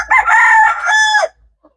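A desi rooster on a small chicken farm in an orchard crows once, loud and close, in a single drawn-out call that cuts off into silence.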